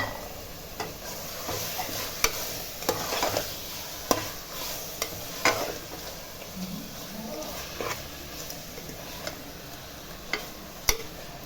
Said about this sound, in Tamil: வாங்கம்மா எறா போட்டுக்கலாம்.